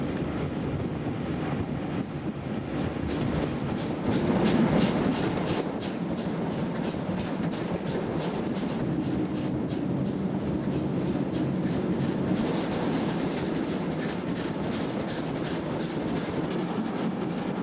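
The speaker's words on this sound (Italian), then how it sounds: "Il 626 in coda spinge, tutta acclive e in curva" Train with an E 626 electric locomotive pushing at the rear, climbing a curving grade on the mountain line near Aurisina toward Postumia: a steady, loud rumble of wheels and running gear, with wind buffeting, continuing throughout.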